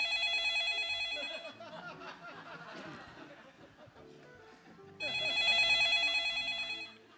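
A telephone bell rings loudly in repeated bursts at the start and again near the end, with a stretch of people talking and laughing in between.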